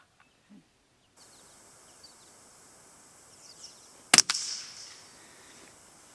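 A Savage Mark II FV-SR rifle fires one subdued, sharp crack, quickly followed by a second smaller snap and a short fading tail, against a quiet outdoor background.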